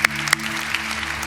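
A church congregation claps for those who prepared the worship service, a brief burst of applause heard over a sustained organ or keyboard tone.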